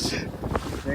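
A passenger boat moves along the Alappuzha backwaters in Kerala, its low churning rumble mixed with gusty wind buffeting the microphone, close and steady for a moment.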